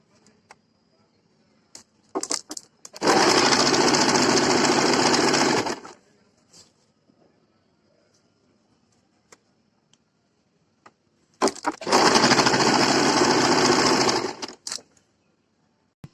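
A sewing machine stitches the side seam of an A-line kurti in two loud, steady runs of about three seconds each, separated by quiet handling clicks and fabric shuffling.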